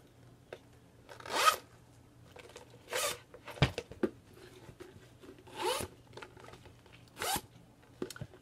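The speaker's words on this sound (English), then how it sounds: "let me see if the zippers move any different." A Louis Vuitton Neverfull-style bag zipper is pulled repeatedly in short rasping strokes, about six bursts separated by pauses, close up with faint handling noises between.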